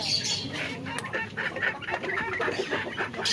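Fancy ornamental chickens clucking and squawking in a pen, several overlapping calls and brief wing flutters, close and lively.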